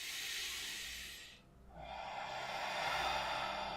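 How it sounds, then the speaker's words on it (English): A slow, close breath drawn in through the nose and released out through the mouth, a soft airy hiss with a brief pause between inhale and exhale, heard alone. "breathing into the nose, breathing out to the mouth."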